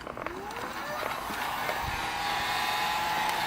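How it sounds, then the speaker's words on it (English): A handheld hairdryer blows steadily to dry paint, a continuous whooshing hum with a slight rising whine, heard close up while a person talks over it. "on this is a hairdryer for drying paint"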